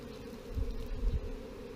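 Swarm of honey bees filling the air outdoors, a dense, steady low buzzing hum that swells briefly as bees pass close, continuous and without talk.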